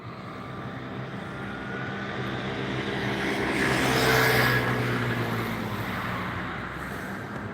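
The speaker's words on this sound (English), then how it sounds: "God, you could stand here all day and watch planes." A plane passes overhead at a busy spot near taxiing aircraft, its broad engine roar swelling to a peak mid-clip and then easing away, with no talk.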